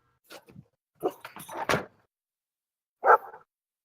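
A service dog gives a few short barks and yips spread across a few seconds, with a louder, fuller bark near the end, fairly close with quiet gaps between.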